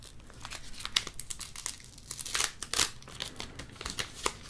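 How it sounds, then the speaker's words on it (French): Scissors slowly cutting open a foil Pokémon booster pack, producing close, crisp crinkling and snipping in dense bursts that fill the whole stretch, with no talking. "Au moins avec le ciseau, je peux y aller plus doucement."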